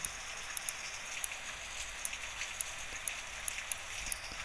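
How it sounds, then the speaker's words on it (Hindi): Steady rain in the horror video game Insomnia, a continuous hiss of falling water with scattered sharp drip ticks, even and moderately quiet throughout, with no talk. "बारिश हो रही है ब्रो, ठंड लग रही है।"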